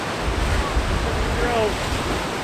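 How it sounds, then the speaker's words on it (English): Strong wind blowing along a Lake Superior shoreline near a lighthouse in Duluth, Minnesota, a loud, steady roar buffeting the microphone, with surf mixed into the rush. "It's very windy down here,"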